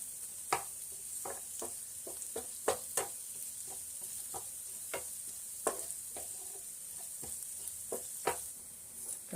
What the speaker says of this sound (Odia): କଞ୍ଚା ଲଙ୍କାକୁ ପିଆଜ ସହିତ ଆମେ ଭଲ ଭାବରେ ମିକ୍ସ କରି ଫ୍ରାଏ କରିନେବା।